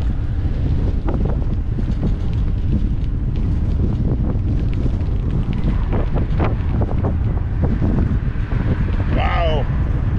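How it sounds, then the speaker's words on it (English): Strong wind roars continuously across the microphone on a fishing bridge bike path beside the Bow Channel, a dense low rumble filling the whole clip while someone speaks over it. "Wind's trying to blow my hat off."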